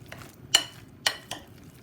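Spinach being stirred in a cooking pan for a cheese-and-spinach stuffed pork tenderloin, heard as three sharp utensil scrapes and clinks against the pan over a low background hum.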